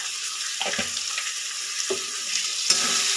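Shrimp sizzling steadily in a hot pan with turmeric and chili powder, a continuous frying hiss broken by a few soft stirring scrapes, close and alone with no talking.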